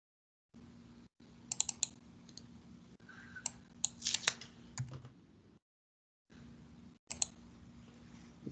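Keys clatter on a computer keyboard in quick irregular bursts of typing and clicks, broken by short pauses and silent gaps, close and fairly quiet.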